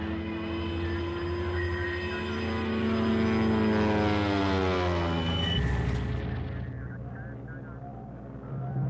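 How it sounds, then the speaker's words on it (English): German bomber aircraft of 1939 flying over Poland, a loud sustained engine drone that rises and swells toward the middle with shifting pitch, then cuts to a duller, lower rumble, with no talk. "German bombers were leveling cities"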